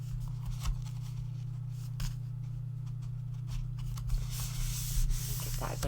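Folded cardstock burnished by hand for a Christmas mini album, a steady papery rubbing and scraping that runs continuously at close range with a few brief louder strokes, no talking.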